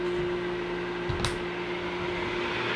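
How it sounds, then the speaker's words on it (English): Electric kettle heating water while powered by a Jackery 3000 Pro portable generator, a steady broadband hiss and hum with a constant tone, plus a brief clunk near the middle, no talking. "You can hear the kettle. The kettle's going."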